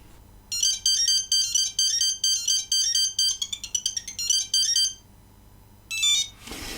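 A 2001 Nokia 8310 mobile phone plays its Vivaldi Four Seasons ringtone, a loud run of rapid, bright monophonic beeping phrases with short pauses, followed by a brief burst and then a rustle.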